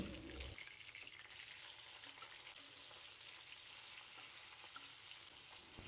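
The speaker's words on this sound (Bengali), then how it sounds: "তেলটা যখন খুব ভালোভাবে গরম হয়ে যাবে তখন এর মধ্যে একে একে মাছগুলোকে দিয়ে দিলাম" Rohu fish pieces fry in hot mustard oil in a pan, a faint, steady crackling sizzle that carries on evenly without any talking.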